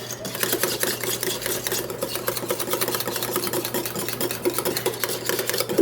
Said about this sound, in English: Just whisk it together till smooth